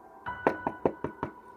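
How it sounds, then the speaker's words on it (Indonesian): Six firm knocks on a door, evenly spaced and close, rapping in a quick steady rhythm with nothing else heard around them. "Dia mengetuk pintu itu"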